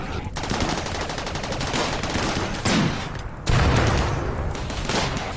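Rapid gunfire and cannon blasts from a RimWorld battle, a dense continuous crackle of automatic shots with two heavier booming bursts toward the end, loud and close throughout.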